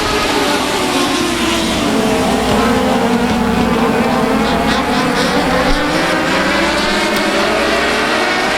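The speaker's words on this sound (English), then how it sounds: "There's a green, and they're away and racing." Race cars roar past at South Texas Speedway, a loud, dense engine drone with sweeping pitch changes as the pack accelerates away on the green, continuous and close throughout.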